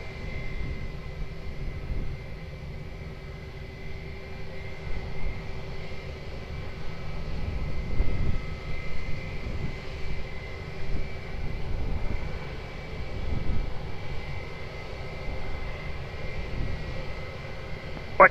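Airplane engines drone at Lisbon Airport, a steady distant roar that swells and fades gently over the airfield, with a faint constant tonal hum beneath.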